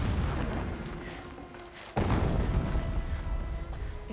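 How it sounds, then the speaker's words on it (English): Distant explosions rumble through the Horizon Zero Dawn Remaster game world, a dense continuous roar with a sharp burst near the middle, heard alone without talk. "Explosions in the distance."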